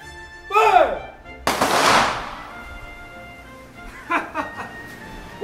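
Firing squad gunshots ring out in a stage play, a loud sharp volley that decays into a crowd reaction, with shouted voices and laughter before and after.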